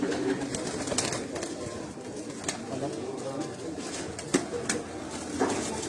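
Parwazi pigeons in a breeding cage producing soft low coos over a busy ambient background, with occasional wing flutters and scratchy cage sounds and someone talking faintly nearby.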